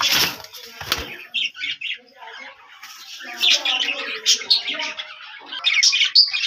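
Pigeons, including a white one, give soft calls and brief wing flaps close by, with a few sharp bursts early on, heard between and under a person's talking.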